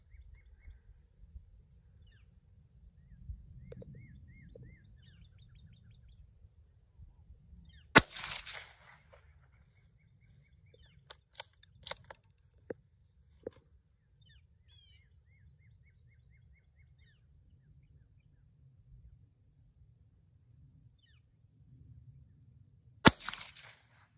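A .17 HMR rifle fires at an orange outdoors. Two sharp, distant cracks stand far apart, with a few faint clicks and small knocks between them against a quiet, low-level background where birds chirp softly.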